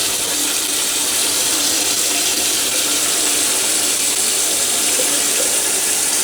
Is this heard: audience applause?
no